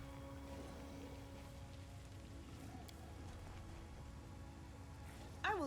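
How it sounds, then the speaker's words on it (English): Steady rain hisses and patters throughout a dark fantasy role-playing game, a constant wash of falling water with a low hum underneath and a brief louder effect at the end. "Rain."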